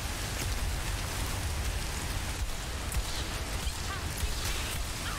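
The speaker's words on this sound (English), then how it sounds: "It's raining now. Oh, fuck. It's like ice rain. Freezing rain." Freezing ice rain in the video game Borderlands 3, a dense, steady hiss of rainfall with no break, fairly quiet and even throughout.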